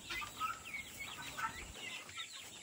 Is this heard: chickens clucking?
yes